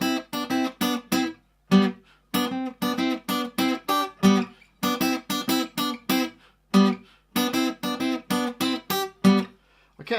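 Electric guitar plays the verse line of a song as a brisk, repeating run of plucked two-string notes in a steady rhythm, with short gaps between phrases.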